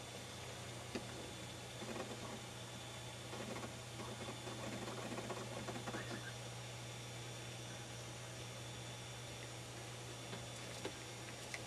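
An old Mac computer loading a Mac OS X install DVD: a steady low hum and whir with faint ticking and disc-drive mechanism noise, quiet and continuous throughout.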